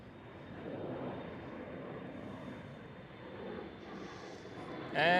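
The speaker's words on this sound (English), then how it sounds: "And there goes the next KLM City Hopper departing." A KLM Cityhopper airliner departing Schiphol airport, its jet roar a steady, moderately distant rumble that swells slightly, with a brief louder burst at the very end.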